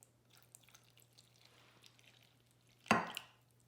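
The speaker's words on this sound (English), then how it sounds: "Step 2 is to add your water." Water poured onto cornstarch to make oobleck lands in one short, close splash after several seconds of near silence.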